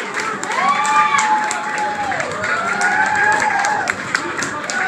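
An audience at an ALS fundraising presentation breaks into sustained applause, with cheers and whooping shouts rising over the clapping for several seconds.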